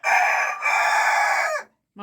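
A rooster crows loud and close, one long drawn-out cock-a-doodle-doo lasting about a second and a half, followed by a brief pause and the start of another call.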